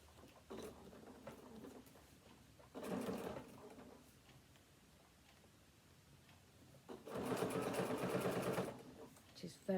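A sewing machine stitches binding down onto a fabric card wallet in two distinct bursts of rapid, steady mechanical whirring, close by, with quieter handling sounds in the gaps between them.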